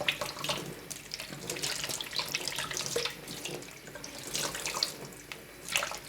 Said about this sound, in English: So I'm going to set my tap to cold. And I'm just rinsing it.